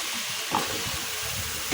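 Pointed gourd (potol) drops into a hot pan with spices, giving a brief, steady sizzling hiss at close range.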